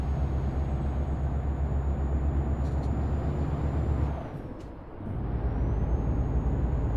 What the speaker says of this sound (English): Default truck sound.